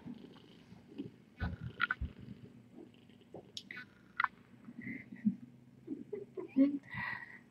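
Mother cat and kittens being arranged in a rescue nursery, a soft low purr running steadily under scattered handling noises, small squeaks and rustles throughout.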